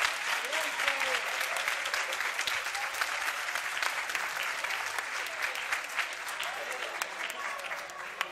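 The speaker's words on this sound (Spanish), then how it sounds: "Por favor, un fuerte aplauso, que lo han intentado todos." Audience clapping for teams at a FIRST LEGO League robot game competition, steady dense applause with crowd voices and chatter mixed in, continuing evenly throughout.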